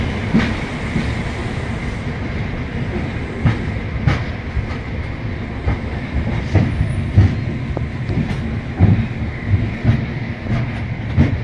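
Riding aboard the Amaravati Express passenger train, 18047, as it runs on the tracks: a loud, steady rumble with a rhythmic clickety-clack of wheels over rail joints, heard close up throughout.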